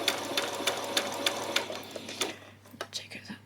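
Sewing machine stitching fabric for a peasant top, set to a zigzag stitch; a run of quick rhythmic bursts close by that slows into separate short stitches at the end, with faint speech in the background.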